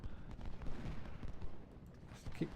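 Distant, muffled rifle fire from skirmishers in the Civil War battle game Ultimate General Civil War, a low crackle of overlapping shots under a rumbling battlefield background at fairly low volume.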